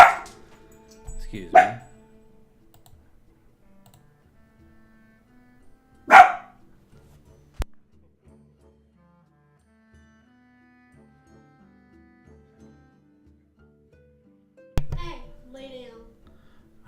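An excited dog barks in short bursts spaced several seconds apart, sharp yips close by in an otherwise quiet room while cards are being opened, with a few words spoken in between.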